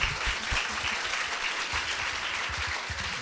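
Steady audience applause during a conversation event, a continuous wash of many hands clapping with some low thumps underneath, lasting a few seconds.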